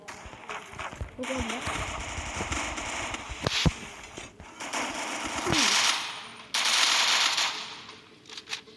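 Bursts of automatic gunfire and single shots ring out in a multiplayer shooter video game, sharp cracks and rattling volleys at varying distance over a hissing background, while a player talks over the action.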